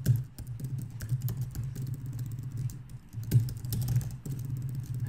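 Rapid, continuous clatter of keys on a computer keyboard while code is typed, close and steady with brief pauses, over a low hum.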